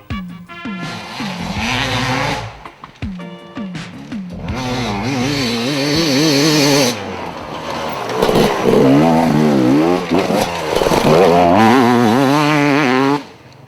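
A 2006 Gasgas 300 two-stroke enduro motorcycle revving hard, sharp blips at first, then long rising and falling engine wails as it pulls through the gears, loud and close throughout before cutting off at the end.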